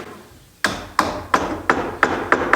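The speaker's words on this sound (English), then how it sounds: "tighten them both by hammering them home" Hammer blows drive wooden wedges home into an English oak cupboard's tenon joint: six sharp, ringing taps spaced about a third of a second apart, close and clear after a quiet start.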